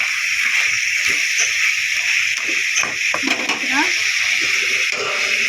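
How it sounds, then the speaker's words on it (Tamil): Crab gravy masala simmering in oil in a pan, a steady bright sizzle and bubbling throughout, with faint stirring scrapes partway through. "நல்லா எண்ணெய்லாம் தெளிஞ்சு மசாலாவெல்லாம் மிக்ஸ் ஆகி அப்படியே வரணும்."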